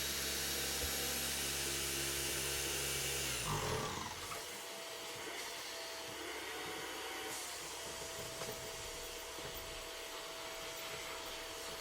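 A Lake Country UDOS 51E random-orbital polisher runs at its 15mm throw setting, a steady whirring motor drone that holds loud for a few seconds, then drops slightly and continues evenly throughout, with no speech.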